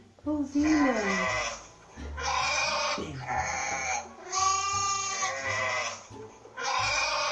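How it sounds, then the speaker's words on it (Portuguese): Several loud, close bleats from a sheep or goat come in separate drawn-out calls with short pauses between them, heard alone without talk. "Ovelha."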